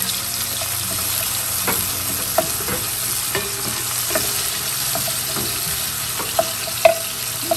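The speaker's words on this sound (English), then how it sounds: "The oil has been heating for a few minutes now, and now I'll add this onion that I have, and this the ginger and garlic" Onion, ginger and garlic fry in hot oil for butter chicken, producing a steady close sizzle broken by occasional spatula stirring clicks, with no voices.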